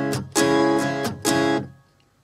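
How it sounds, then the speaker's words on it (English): Acoustic guitar strumming the main pattern of a song, four bright strums in a steady rhythm with a muted stroke between them, close and alone before it fades out. "The main pattern, which he plays pretty much throughout the whole song, sounds like this."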